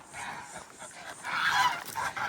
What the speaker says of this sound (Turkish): Kazlar biraz sinirli.